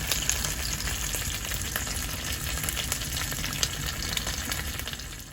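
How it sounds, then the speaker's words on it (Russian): Meat frying on a Winnerwell Nomad Small wood stove inside a shelter in the evening, giving a steady close sizzle and crackle that runs unbroken throughout without any voices. "Заодно мы подогреваем мясо."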